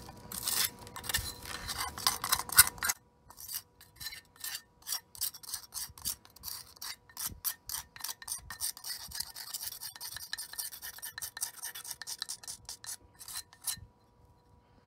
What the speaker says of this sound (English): we're just gonna go around and scrape all that out